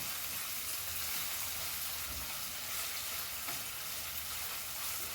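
Chopped onion fries in a pan for a Goan prawn and cauliflower caldeen, a steady dense sizzle close up that stays even throughout with no talking.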